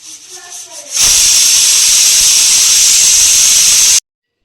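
A pressure cooker of tapioca in water whistles loudly, one sustained sharp steam hiss lasting about three seconds after brief quiet room sound, then cutting off abruptly.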